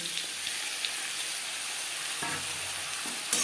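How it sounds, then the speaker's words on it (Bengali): Potatoes and radish stir-frying in oil with panch phoron, a steady bright sizzle with a couple of stirring scrapes near the end and a louder burst of hissing at the close. "আলুর সাথে মুলো বেশ ভালো করে মিক্স করে দেবো"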